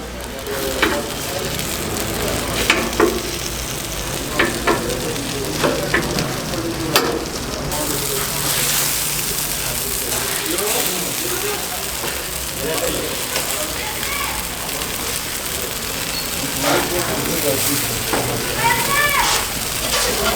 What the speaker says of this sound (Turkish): Kendi yağıyla kavruluyor şu an tavuk